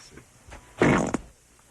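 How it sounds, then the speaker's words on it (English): A short, loud, buzzing real fart, about half a second long, plays after faint murmuring and ends in a brief final sputter. "My farts, my actual real farts."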